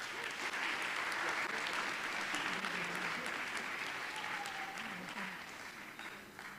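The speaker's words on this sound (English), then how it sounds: "Shall we give them a big round of applause?" A big round of applause rises from the audience at a memorial lecture, a sustained, even wash of many hands clapping that holds steady and then begins to taper off.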